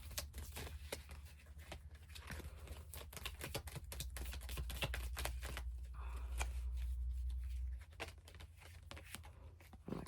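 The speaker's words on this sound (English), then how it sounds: "So I'm going to draw one more card to just get like a couple more cards." Tarot cards being shuffled and drawn, a close run of rapid papery riffling and flicking with soft slaps as cards are handled, no talking.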